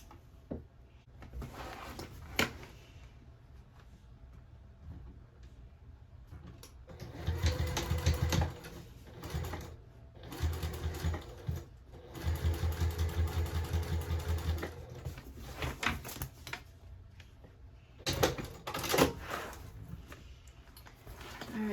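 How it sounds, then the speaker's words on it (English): A sewing machine stitches a tote bag seam beside interfacing stabilizer, starting and stopping in several short bursts with quiet handling noise between runs. "So you're going to be sewing directly next to, but not through your stabilizer, this interfacing."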